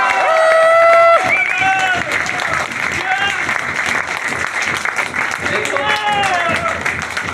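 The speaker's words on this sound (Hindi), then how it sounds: "फिर थोड़ा जोरदार ताली बजाओ" Audience at a network marketing event applauds, a dense wash of clapping that holds steady throughout, with speech and a few raised voices mixed into the crowd noise.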